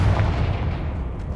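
Confringo explosion spell in the game Hogwarts Legacy, a single loud, heavy boom close at hand with a dense rumbling tail.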